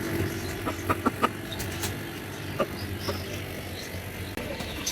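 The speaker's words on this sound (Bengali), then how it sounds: "এগুলো হচ্ছে পাকিস্তানি মুরগি" Pakistani-breed chickens kept for eggs in Chittagong give a few short, scattered clucks at moderate distance over a steady low background hum, with no talking.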